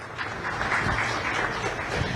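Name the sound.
audience applause for summit guests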